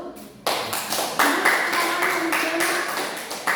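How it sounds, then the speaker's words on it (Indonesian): Clapping from a classroom of students for a classmate, a burst of hand claps that starts abruptly and carries on steadily under a spoken voice. "kita tepuk tangan untuk Dona dulu"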